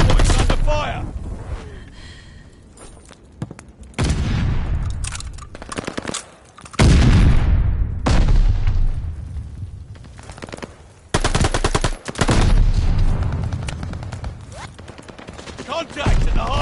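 Rapid automatic gunfire and bursts of shots in a Call of Duty Hardpoint esports match, loud and dense, coming in repeated waves with short lulls, a voice faintly underneath.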